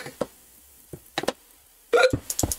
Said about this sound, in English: oh god, not hiccups, please.